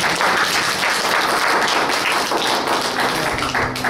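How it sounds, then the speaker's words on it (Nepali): A church congregation gathered for a welcome and notices breaks into steady, dense applause, many hands clapping together throughout at close range with no pause. "ताली बजाइदिनुहोस्"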